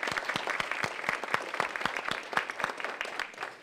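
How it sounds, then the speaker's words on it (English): A lecture audience claps for the program committee and volunteers, a dense burst of hand claps at moderate loudness that continues steadily and tapers slightly at the end. "let's give them a nice round of applause"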